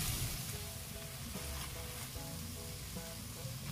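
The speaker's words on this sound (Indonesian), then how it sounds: "Ini minyak goreng bekas menggoreng ikan nila tadi. Kemudian tumis sampai tanak." Oil left from frying tilapia sizzles and crackles steadily in a pan as spices sauté, with faint stirring tones and no talking.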